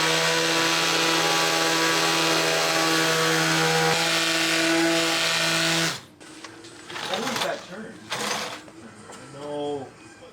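A loud, steady whining power sander grinds on a Tesla Model 3 body panel for several seconds, then cuts off, leaving scattered clanks and brief mechanical noises.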